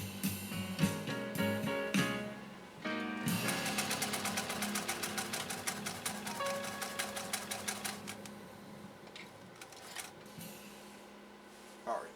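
A 1928 Singer 66-6 sewing machine stitches 100% cotton material with a stiffener inside, running in steady rapid bursts of mechanical clatter that pause, restart and slow toward the end, heard close with no talking.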